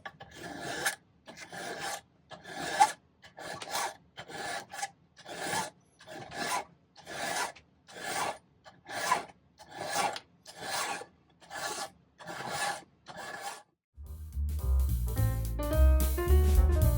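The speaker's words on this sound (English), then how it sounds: "file it again the same way I have been filing it, to get everything all as flat and smooth as possible" Metal file rasping across a silver and copper herringbone cuff in a series of about fourteen evenly spaced, close strokes with short pauses between, ending as music comes in.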